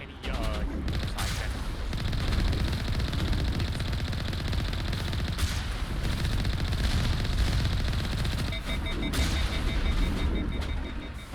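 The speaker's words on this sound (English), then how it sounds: "you're overheating your main gun." Tank main gun firing in the Mass Effect video game: a dense, continuous barrage of rapid loud shots that runs almost without pause throughout, with voices heard in the mix.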